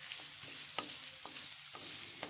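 Ground turmeric and kaffir lime leaves stirred in a frying pan, a steady soft sizzle with occasional scrapes of the spatula, close and alone with no talk.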